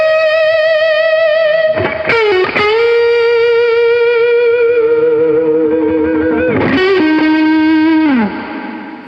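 Heavily distorted electric guitar through a Peavey Classic 30 lead channel with gain on full rings out sustained notes with pick scrapes and slides between them, loud and saturated, fading at the end.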